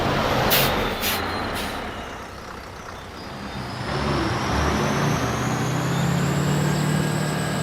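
A bus slows and stops with a sharp hiss of air brakes at the start, followed by the low rumble of the idling engine and passing traffic noise.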